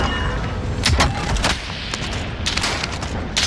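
Enemy gunfire in Call of Duty: Modern Warfare, a dense volley of close, loud shots with sharp individual cracks rising over continuous rattling fire, no talking.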